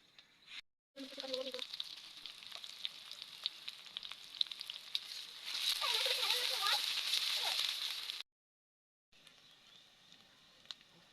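Fish sizzles and fries in hot oil with a steady crackle, swelling louder for a few seconds midway, then briefly cutting out before resuming softly.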